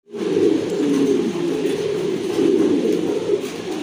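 Pigeons, including a pair of show King pigeons, coo in a dense continuous chorus of low, throaty burbling, close and steady throughout with no talking.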